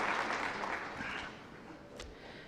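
Applause from a commencement ceremony audience honoring faculty, a fairly distant wash of clapping that fades over a couple of seconds.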